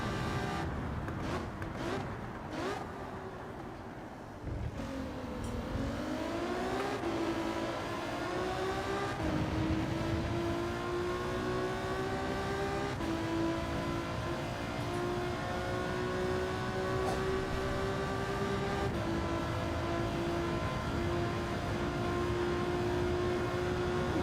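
A racing car engine in Gran Turismo 7 hums steadily, its pitch climbing and settling through gear changes, fairly quiet and continuous with no talking.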